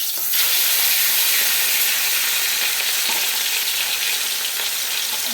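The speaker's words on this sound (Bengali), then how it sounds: "এবারে কাতলা মাছটা ভেজে নেবো।" Katla fish fries in hot oil, a loud, steady, dense sizzle and hiss that holds unbroken throughout, up close with no talking.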